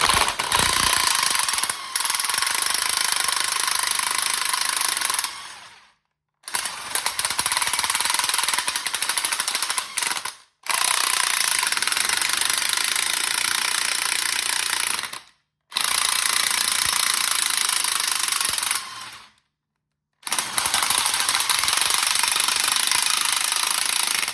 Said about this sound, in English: I'm just going to run my impact, and we'll see if it works